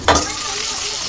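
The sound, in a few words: onion, cumin, ginger and garlic paste frying in pan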